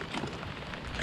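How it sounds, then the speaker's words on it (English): Rain falls steadily at a lakeside campsite, a soft continuous patter with no talk over it. "And just now, it starts raining again."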